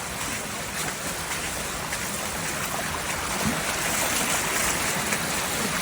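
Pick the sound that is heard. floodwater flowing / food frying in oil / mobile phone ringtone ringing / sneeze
floodwater flowing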